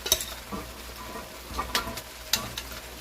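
Boiled pork sizzles in a pan with bagoong while a spoon stirs, making a constant frying hiss broken by several sharp scrapes and clacks, close by and without voices.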